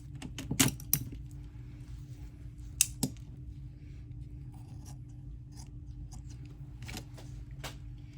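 A few sharp metallic snips and clicks from fabric scissors over a low steady hum, spaced irregularly and close up.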